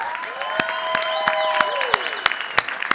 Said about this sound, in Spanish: un aplauso para todos estos niños